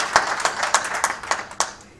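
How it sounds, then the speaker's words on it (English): An audience at a formal MoU exchange ceremony claps for about two seconds, a moderate, loosely rhythmic patter of hands that thins toward the end. "So please give a big round of applause."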